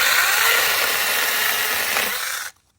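A Sainlogic chainsaw with a stock, unsharpened chain cuts through a branch about 1.5 inches thick, a loud close high whine running steadily for over two seconds before cutting off abruptly into silence.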